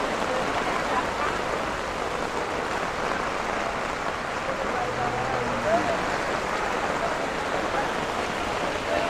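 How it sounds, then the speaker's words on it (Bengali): Heavy downpour at an outdoor cattle market, a steady broadband hiss of rain drumming continuously throughout, with a faint murmur of voices and activity underneath. "আবারও ঝুম বৃষ্টি।"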